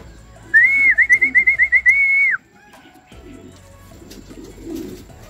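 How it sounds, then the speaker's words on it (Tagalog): A racing pigeon gives a loud, rapid trilling warble of about ten pulses as pigeons return home, then quieter outdoor ambience follows. "Umpisa na nga mag-uwian mga ibon or magdaanan dito."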